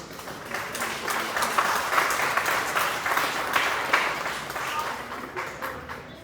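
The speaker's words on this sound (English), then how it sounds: "You can clap if you want." Audience clapping at a middle school spring concert medal ceremony, moderate scattered applause that swells and eases over several seconds, with some voices underneath.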